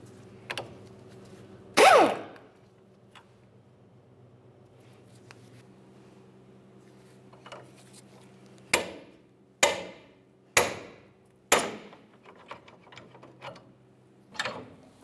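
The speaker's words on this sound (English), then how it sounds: "we'll use a pickle fork to separate this from the inboard bushing" Sharp metal blows driving a pickle fork to separate a vehicle's front driver-side lower control arm from its inboard bushing: one loud strike early, then four evenly spaced hits after a quiet pause, close and ringing.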